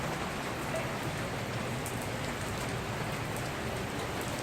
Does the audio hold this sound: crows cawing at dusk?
no